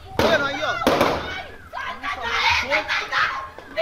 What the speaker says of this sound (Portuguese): Pouco depois, outra viatura se aproxima e ouve-se tiros.